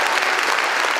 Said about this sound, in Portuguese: eu quero pedir um aplauso a todos os líderes religiosos de diferentes estratos